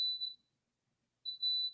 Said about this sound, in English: oh, that's my coffee maker.